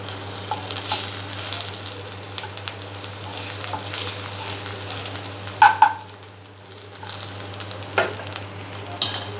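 Ginger frying in a hot pan for Punjabi dal tadka, a continuous moderate sizzle with scattered clicks and utensil taps, a brief louder scrape midway, and a low steady hum underneath.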